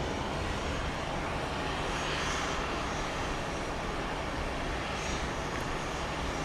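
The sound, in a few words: Boeing 737-800 aircraft at Dallas Love Field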